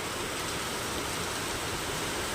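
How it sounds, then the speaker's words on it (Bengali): Rain falling outside in a steady, dense hiss of broadband patter, constant and fairly soft throughout with no voices. "দেখছি বাইরে আওয়াজ, কিসের আওয়াজ? বৃষ্টির আওয়াজ।"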